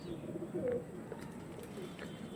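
Pilot-breed and flying pigeons held for sale, faint low cooing close by against quiet background noise, with a brief louder coo partway through.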